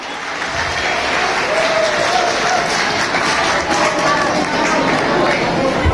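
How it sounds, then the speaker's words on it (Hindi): Loud, sustained applause from a large school audience at a farewell party, cheering the students: a thick, continuous roar of clapping mixed with crowd chatter, holding steady for several seconds. "तो इन सभी बच्चों के लिए जोरदार तालियां एक बार।"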